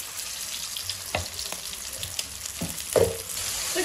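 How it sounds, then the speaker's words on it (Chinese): Pan-fried dumplings sizzling in a pan, a continuous hiss broken by a few sharp pops and utensil knocks, close and fairly quiet with no talking. "咱们现在把这个煎饺煎一下"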